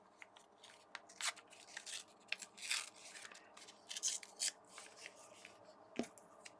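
Scissors trim gel print paper scraps up close, with quiet rapid snips and papery crinkles in an irregular rhythm and a soft knock near the end.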